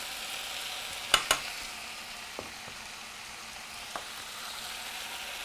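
Spices hit hot oil in a pan, cayenne and coriander powder among them, with a steady close sizzle throughout, a couple of sharp clinks early on and a few soft taps later.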